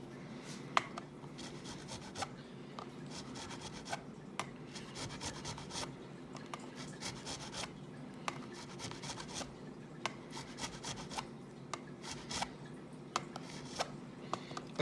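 Quiet, close rasping strokes of an abrasive rubbing over guitar frets while leveling them on a Donner guitar, repeated in a steady back-and-forth rhythm following the fret curve, with no talking.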